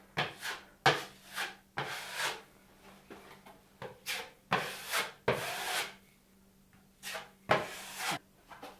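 A small putty knife scrapes in short, repeated strokes over drywall screw heads in a basement bathroom build, each quick scratchy pass close and fairly quiet, with brief pauses between strokes.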